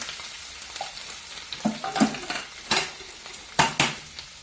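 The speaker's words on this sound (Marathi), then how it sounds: "शेंगदाणे ते एकदम मध्ये परतून घ्यायचे म्हणजे आपला मसाला कच्चा राहायचा नाही" Peanuts with cumin, turmeric and coriander being stirred and sautéed in a pan, with soft frying hiss and several distinct scraping clinks of a spoon against the metal, close and moderately loud, no talking.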